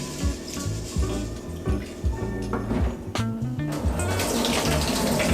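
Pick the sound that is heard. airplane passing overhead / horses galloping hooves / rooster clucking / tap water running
tap water running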